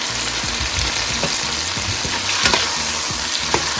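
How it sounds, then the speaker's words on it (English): Tomatoes tossed into sauteing onions and cumin seed for butter chicken, a loud, continuous close sizzle with a low rumble underneath and occasional stirring scrapes, no voices. "Now I'm going to add tomatoes."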